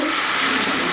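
Steady broadband rush of water pouring, continuous and fairly loud for the whole second, with no talking.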